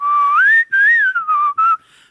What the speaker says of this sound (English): I discovered that I can throat whistle by accident.